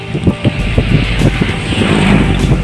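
A truck passes on a remote road, its engine rumble and tyre noise rising and falling close by, with wind buffeting the microphone throughout.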